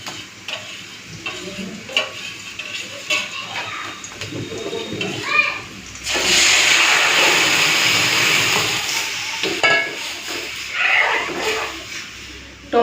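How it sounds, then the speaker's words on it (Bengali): Masoor dal poured into a pan of fried onions gives a loud sudden sizzle that swells and then settles, with scraping stirring strokes and kitchen clatter before and after. "এখন ডালটা ঢেলে নিই।"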